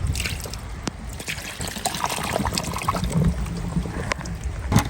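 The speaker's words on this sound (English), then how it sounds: "Drain this water off." Water drained off outdoors in heavy rain during garlic planting, a steady close trickle and dribble of liquid running continuously with scattered splashes and a few sharp knocks.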